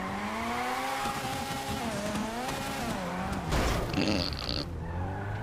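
Car in a racing video game slides through a handbrake drift, engine droning with shifting pitch while tires squeal, a loud burst of skidding near the end before the engine settles; no talking.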